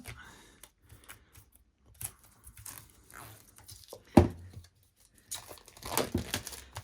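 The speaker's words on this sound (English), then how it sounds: "Breaking out the scissors. So I can get into this now." Scissors snip and tear through the plastic wrap on a brand-new collector's edition book, with crinkling and crumpling in scattered bursts and a sharper cut near the middle.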